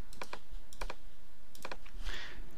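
Keyboard shortcuts tapped in Photoshop: a few quick clusters of close, crisp key presses with short pauses between them, quiet and without speech.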